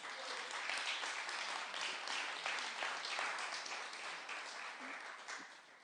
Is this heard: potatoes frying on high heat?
no